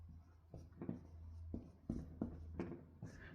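Pen or pencil writing an exam maths answer by hand, close and quiet, a run of short scratchy strokes with brief pauses between words, and a low steady hum beneath.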